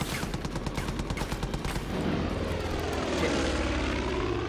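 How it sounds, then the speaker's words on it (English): Propeller airplane engine droning overhead in the Far Cry 5 video game, a loud steady roar that swells and sweeps past after a stretch of rapid pulsing gunfire-like bursts. "So every time a plane comes out"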